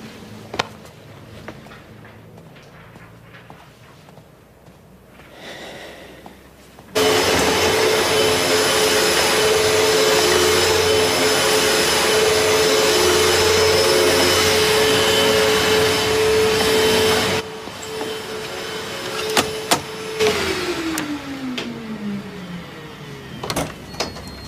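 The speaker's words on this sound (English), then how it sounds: "Just doing a spot of hoovering." A vacuum cleaner switches on after a quiet stretch and runs with a steady, loud whine for about ten seconds, then cuts off. Its motor tone winds down and falls away while household noises continue.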